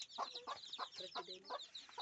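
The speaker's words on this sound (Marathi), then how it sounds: "हे बघा याच्या खाली आहे ती कोंबडी" A hen clucks repeatedly in quick, uneven bursts from beneath a basket, close by and fairly quiet, with no other sounds around it.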